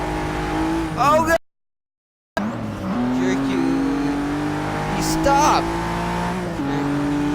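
A Ford GT race car in the racing game Forza 6 revs hard with shifting engine tones and brief tire squeals, cut by a moment of silence, while a player shouts in alarm over the car noise.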